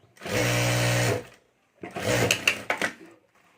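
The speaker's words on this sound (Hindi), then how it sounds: "यहाँ जिप के ऊपर हमें सिलाई कर देनी है" A sewing machine stitches over the zip of a fabric clutch bag in two bursts: one steady whir of about a second, a pause, then a second run with uneven clicks and knocks.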